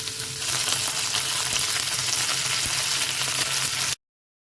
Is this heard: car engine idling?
no